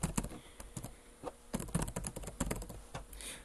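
Typing on a computer keyboard while entering customer contact details: quick, uneven bursts of crisp key clicks, close and fairly quiet, with short pauses between clusters and no talk.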